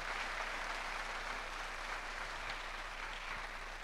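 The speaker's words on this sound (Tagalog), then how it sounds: "Lahat na nagpapasalamat sa Diyos, pumalakpak na malakas." Church congregation applauding loudly after a call to thank God, a steady dense wash of many hands clapping that stays even throughout.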